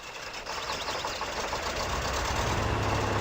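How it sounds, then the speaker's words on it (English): In the off-road driving game Spintires, a truck's engine starts up and settles into a steady, rough diesel rumble, building slightly in loudness with no talking over it. "So let's start our engine."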